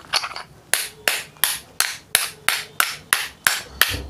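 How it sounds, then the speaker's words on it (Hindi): Metal hammer blows drive a bearing into a reverse osmosis diaphragm booster pump: about ten sharp, evenly spaced strikes, loud and close, with no talking. "इसको इसमें ठोक देते हैं जैसे पुराना वाला ठोका हुआ था वैसे। इसको बराबर बराबर ठोकेंगे।"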